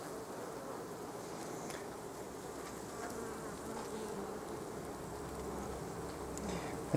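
Honeybees buzz steadily around a queen being released from her cage into a queenless nucleus hive; a continuous, close, moderately faint drone with no talking.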